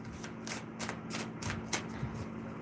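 Tarot cards are shuffled fast in quick, repeated papery riffles, close and fairly quiet, with a faint steady hum underneath and no voice.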